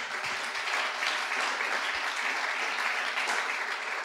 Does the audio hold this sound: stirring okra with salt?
no